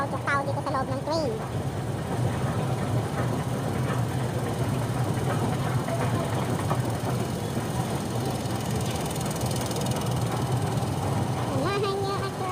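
Steady rumble and rattling of a moving passenger train heard from inside a near-empty carriage, continuous throughout with faint clicks and squeals over the low drone.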